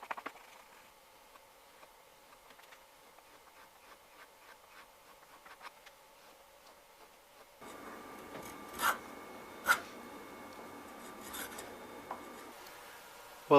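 A curved Stanley 100-1/2 plane iron has its very tip honed, faint soft rubbing strokes that grow louder and grittier midway, with a few sharp scrapes and a knock at the end.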